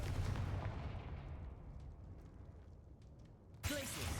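Confringo fire spell blast in the video game Hogwarts Legacy: a rumbling roar that dies away slowly, then a sudden sharp new burst near the end, all fairly quiet.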